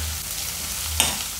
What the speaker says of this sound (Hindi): कैप्सिकम, शिमला मिर्च, फ्राई कर लेते हैं